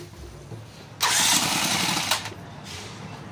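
Small self-start engine on a new spray pump fires up with a button, turning over abruptly, then running loud and close for about a second before dropping back to a lower idle.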